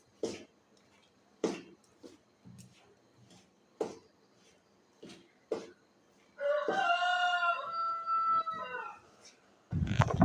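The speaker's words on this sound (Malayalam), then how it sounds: "കോഴി അവിടെ കിടന്നിട്ട് നല്ല കൂവലാണ്" A rooster crows loudly once in the morning, heard from a kitchen, a long harmonic call rising and holding for a few seconds after a series of short clattering knocks.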